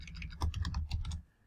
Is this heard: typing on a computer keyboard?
yes